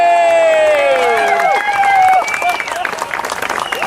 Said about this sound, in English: Let's have a big round of applause for my dad.